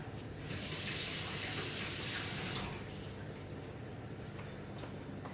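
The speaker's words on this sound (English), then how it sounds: "I'm just going to wash my hands." Tap water runs steadily into a sink as hands are washed beneath it, a close gushing hiss that swells for a couple of seconds and then eases to a softer flow.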